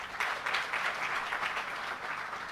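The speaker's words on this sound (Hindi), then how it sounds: "एक बार जोरदार तालियां।" Applause from a large audience of newly selected primary school teachers at an honouring ceremony, a steady moderate clatter of many hands clapping throughout, somewhat distant.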